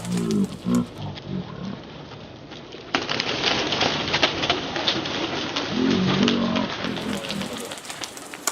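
Low, soft coos from runaway pigeons repeat a few times close by, over a continuous patter resembling light rain.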